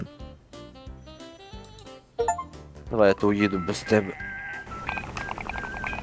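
A telephone rings with a melodic electronic tone inside the Drive Beyond Horizons driving game, heard under close voices talking over it at moderate level.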